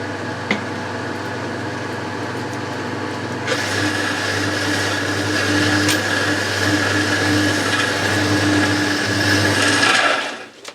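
A belt-driven lathe runs steadily in a model engineering workshop, a low mechanical hum with a whirring motor tone that rises and grows busier partway through, continuing evenly without talk before cutting off near the end.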